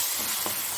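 Crab masala fries in a pan over a raised flame, giving a brief, steady sizzling hiss at moderate volume with no talk.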